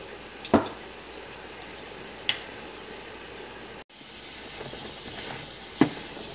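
A big spoonful of garlic frying in a stew pan with pan drippings, a steady close hiss of sizzling oil broken by a few sharp clinks of a utensil against the pan.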